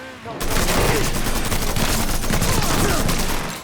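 Dense, sustained gunfire from a Mafia 3 firefight, rapid overlapping shots filling the whole stretch after a brief quiet start, loud and close.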